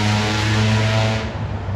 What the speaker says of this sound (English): please excuse me of all that noise, that traffic noise